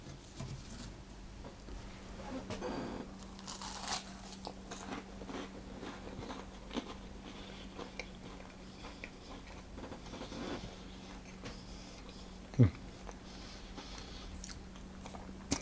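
Crispy parmesan puff pastry cheese straws are bitten and chewed up close, with a sharp crunchy snap followed by repeated crackly chewing, alone over a low steady hum.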